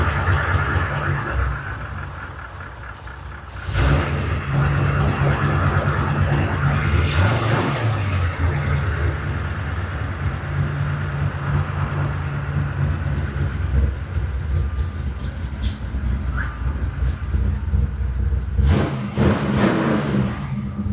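A 1955 Chevy V8 idles steadily just after first start, loud and close, with a brief dip near the start and several throttle blips rising sharply over the idle. No one speaks.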